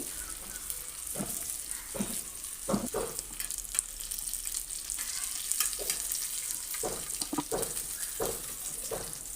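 Fish pieces coated in masala shallow-frying in a pan and being flipped to the other side, a continuous sizzle broken by several short clinks and scrapes of the turner against the pan.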